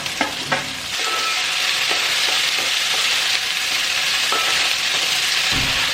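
Chopped onions and green chillies sizzling and frying in a pan, with a few sharp stirring clacks at the start and occasional scrapes over a steady, loud hiss.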